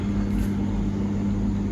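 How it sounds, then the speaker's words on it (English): A car moving away from the listener, as in a Doppler effect demonstration: a steady low engine hum with a sustained tone, continuous and fairly loud, with no talk. "So a car, a sound source, now we are using sound source, moving away from you."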